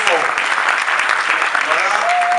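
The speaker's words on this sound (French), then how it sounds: "Sous vos ovations, on va l'applaudir très fort." Audience at a school back-to-school ceremony in Côte d'Ivoire applauds an ambassador, dense continuous clapping filling the room with a faint voice surfacing near the end.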